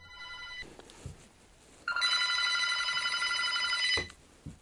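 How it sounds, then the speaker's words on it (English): A telephone bell rings in a steady, rapid trill for about two seconds, fairly close, after a brief earlier chime and some faint clatter. "he hears another phone ringing in a cardboard box."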